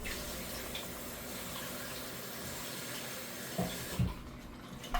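Tap water running into small cans in a kitchen sink while rinsing them out, a faint steady flow with a few soft clunks of cans being handled near the end.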